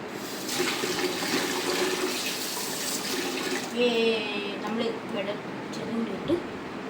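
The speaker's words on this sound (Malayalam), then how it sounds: "പൈപ്പിൽ കാണിച്ചു വാഷ്." Prawns are washed under a running kitchen tap: a steady splash of flowing water with brief clatter and shifts in the stream, and voices faintly present beneath it.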